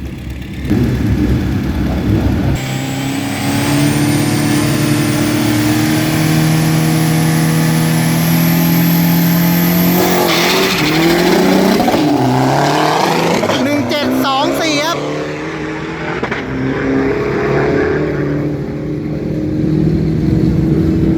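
A drag racing car launches and accelerates down a 402 m strip at Bangkok Drag Avenue, its engine note climbing in pitch through a long, loud, continuous roar, with voices talking over it.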